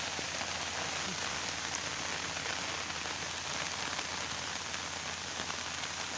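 Heavy rain pours down steadily on surfaces in a rural Thai village setting near arabica coffee trees, a dense unbroken hiss that stays loud and even from start to end.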